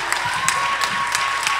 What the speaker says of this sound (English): somebody clap your hands for Jesus